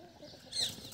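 A brief, soft cluck from a Kadaknath chicken on a free-range desi poultry farm, heard faintly against outdoor background.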